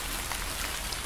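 Heavy rain pours down in a continuous broadband hiss, steady and close, drumming on surfaces without pause or speech.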